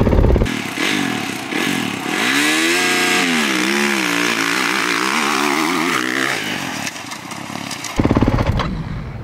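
A 2023 Kawasaki KX250 motocross bike with a new engine snarls through a launch start, its revs climbing and wavering loud and close for several seconds before cutting off abruptly, then a brief rattle.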